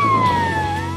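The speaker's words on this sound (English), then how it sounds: "There's even a siren button." A wireless handheld hailer megaphone, the Half Mile Hailer SW615A with amplifier and horn speaker, plays its siren as a loud, steady electronic wail whose pitch slides slowly downward across one second.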